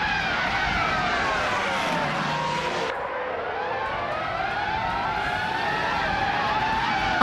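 Loud, continuous racing engine roar from a 1998 Ferrari F300 Formula One car in a racing video game at Jerez, with pitch sweeping as it shifts, overlapping cars and tyre skid squeal throughout.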